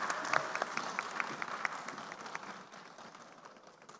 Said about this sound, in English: Applause for our town hall meeting participants. Let's just applaud them.